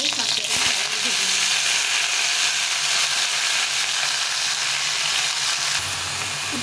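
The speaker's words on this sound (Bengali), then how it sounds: "কড়াইয়ের মধ্যে একটু সর্ষের তেল দিয়ে আমি শাকটাকে ভেজে নেব।" Greens with green chillies fry in mustard oil in a wok, giving a constant close hissing sizzle that holds steady throughout.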